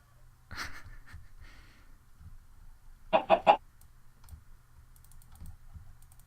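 Chickens in the video game Minecraft give a quick burst of three clucking squawks in the middle, with fainter scattered clicks and a soft earlier squawk around them, all over a quiet low hum.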